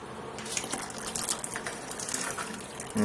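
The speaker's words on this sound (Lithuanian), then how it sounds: "Taip, dabar vykdom tekinimą. Tekinam lėtai ir pabiškiu, kad išsiplautų visas cukrus, visas skonis iš salyklo." Hot water trickles slowly through malt while sparging home-brewed beer, a steady close pouring and splashing flow with no talk.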